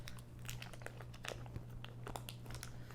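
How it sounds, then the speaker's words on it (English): Wrapping crinkles softly and continuously as homemade peanut brittle is partly unwrapped. The sound is faint and close, over a steady low hum. "I'm gonna unwrap it just a tiny bit."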